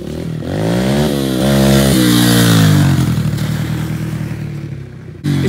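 A KTM dirt bike revs hard and close as it flies past, its engine note rising and falling through several throttle blips before fading, then a short loud burst at the end.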